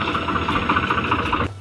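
A tractor engine runs at a steady idle, giving a close, continuous mechanical drone with a fast rhythmic chug before it cuts off abruptly near the end.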